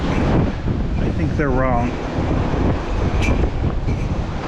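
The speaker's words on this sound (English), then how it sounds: "The news said it's only 19 miles an hour for the wind." Strong outdoor wind roaring steadily against the microphone, loud and continuous low rumble, while someone speaks briefly over it.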